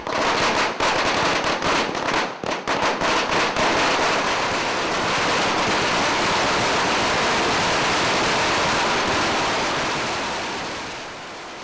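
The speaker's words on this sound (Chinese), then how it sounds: "县长广场欢喜放炮庆祝台南县市合并新界来过关" Firecrackers set off at a county government square in Tainan to celebrate the approved county-city merger: a loud, dense, continuous crackle of rapid bursts that runs the whole stretch and tapers off near the end.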